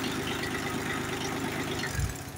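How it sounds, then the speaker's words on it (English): A small Kubota engine runs steadily at idle throughout, a continuous low mechanical drone with a slight bump near the end. "start the engine"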